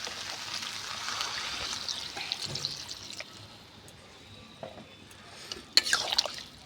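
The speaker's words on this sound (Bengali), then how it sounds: "এবার আমি জল দিয়ে দেব।" A little water is poured into a pan of potol chingri curry, a soft, faint trickle and splash with a few small drips near the end.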